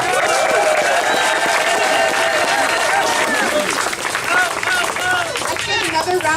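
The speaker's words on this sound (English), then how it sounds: "applause for all these incredible officials" A political rally crowd applauds officials on a November 2018 campaign night: loud, dense clapping and cheering sustained throughout, with overlapping voices and shouts mixed into the roar.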